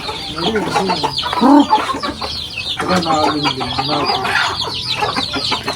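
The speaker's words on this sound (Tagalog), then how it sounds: "Pinapakain na po ni Papa yung mga manok" Native hens cluck and chatter loudly up close as they are being fed, a busy overlapping flock of short calls with one louder squawk early on.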